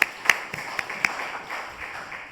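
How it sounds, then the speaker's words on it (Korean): A congregation at a Sunday afternoon church service claps in a sparse, quiet rhythm, a handful of distinct claps at fairly regular intervals, faint and somewhat distant. "하나님께 영광의 박수 올리겠습니다."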